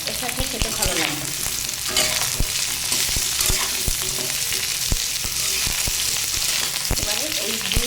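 Sweet pumpkin and taro stolons fry together in a pan, a constant loud sizzle punctuated by sharp scraping clicks of a spatula stirring the pieces at an irregular pace.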